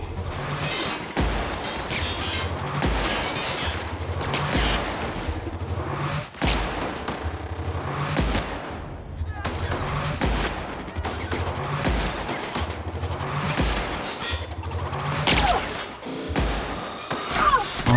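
Turrets fire in The Outer Worlds, loud repeated bursts of rapid automatic gunfire with sharp impact crashes, nearly continuous and close, broken only by brief pauses.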